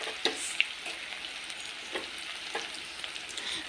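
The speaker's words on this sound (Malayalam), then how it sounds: "ആദ്യം വെളുത്തുള്ളിയും ഇഞ്ചിയും ഉള്ളിയും പച്ചമുളകും എല്ലാം കൂടി ഇട്ട് വഴറ്റുക" Garlic, ginger, onion and green chili being sautéed for a fish curry, a soft steady sizzle with a few sharp utensil clinks and stirring scrapes close by.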